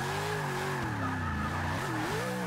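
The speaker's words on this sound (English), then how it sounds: "can it drift this long corner?" A 2013 Ram Runner truck drifts around a long corner in the Forza 6 racing game, its engine droning steadily with pitch sweeps as the revs rise and fall, and tire squeal mixed in throughout.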